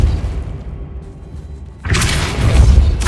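A Depulso force spell cast in Hogwarts Legacy on PS5 gives a sudden loud booming blast after a quiet stretch, with a sustained roar and rumble trailing behind it.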